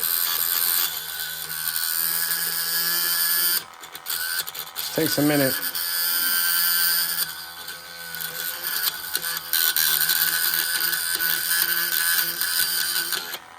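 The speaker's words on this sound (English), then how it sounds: "I flatten it out with the side of the drill bit" A drill bit grinds sideways to flatten a hole in a narrow coupler box of a Rhythm RR model, a loud continuous whirring rasp that pauses briefly while someone speaks, then resumes.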